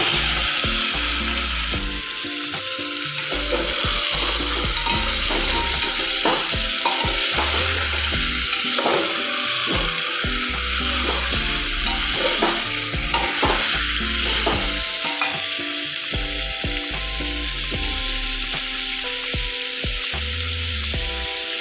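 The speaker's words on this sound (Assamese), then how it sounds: "মই এইখিনি অলপ সময় ভাজি ল'ম।" Chicken pieces fry for biryani in a pot, sizzling steadily and loudly while a utensil scrapes and stirs in repeated rhythmic strokes throughout.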